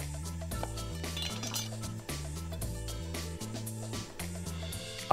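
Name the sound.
mixing salad in a bowl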